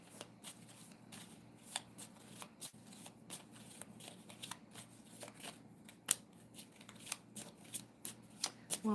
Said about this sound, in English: Takes me a few minutes to shuffle anyways.